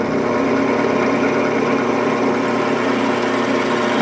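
Drill bit boring into metal on a Datsun 521 ball joint part, producing a loud, continuous motor whine with a steady grinding roar and no pauses.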